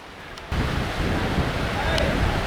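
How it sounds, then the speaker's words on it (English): A waterfall on a hiking trail in Vietnam gives a steady, loud, broadband roar that jumps up sharply after the first half second and then holds evenly to the end. "this was most beautiful waterfall"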